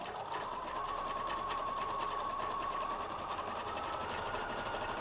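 A sewing machine runs steadily for several seconds, stitching fabric for a microwave potato bag with a continuous, even mechanical whir, close and alone.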